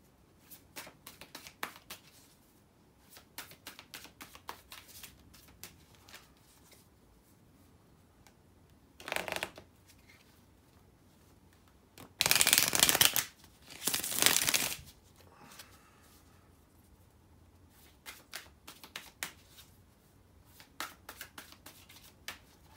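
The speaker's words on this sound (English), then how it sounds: "So let me shuffle the cards." Quick riffling and flicking of tarot cards in short bursts, with a couple of louder shuffles in the middle; quiet and close, with no talking.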